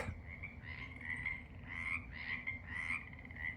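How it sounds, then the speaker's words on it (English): Frogs croaking near a pond on an evening spring walk, a steady chorus of repeated calls at moderate distance with no talking. "Let's let the frogs talk."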